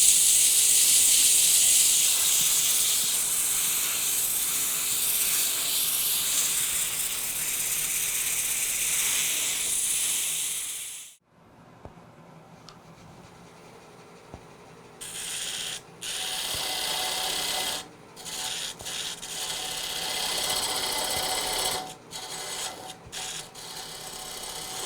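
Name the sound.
sanding an amboyna burl wood box on the lathe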